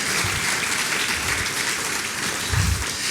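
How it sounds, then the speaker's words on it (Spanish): A church congregation claps together in sustained, dense applause, steady and fairly loud throughout, with a few heavier thumps near the end. "Vamos, denle un aplauso al Señor."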